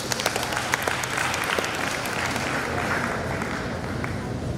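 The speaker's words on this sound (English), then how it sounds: "let's give that a very big round of applause" Sustained audience applause fills a university student chapter launch event for a fellowship cohort, a dense wash of many hands clapping at steady loudness throughout, with faint voices mixed in.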